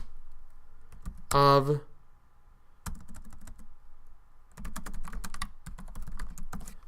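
Someone types on a computer keyboard in short bursts of close clicking keystrokes, separated by pauses. A voice briefly speaks over a moment of the typing.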